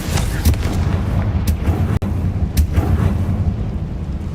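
Confringo fire spell cast in the video game Hogwarts Legacy, a heavy booming blast with deep rumbling impacts repeating through the clip, loud and close with no talk.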